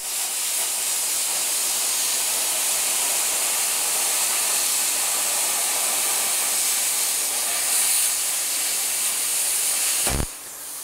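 A plasma torch cutting metal, running with its cutting tip and consumables refitted, gives a steady loud roaring hiss for about ten seconds before cutting off abruptly with a brief thump, leaving quieter background noise.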